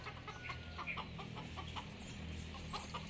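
A loose chicken clucks in short, repeated bursts at a construction site, moderately close, over a steady low background rumble.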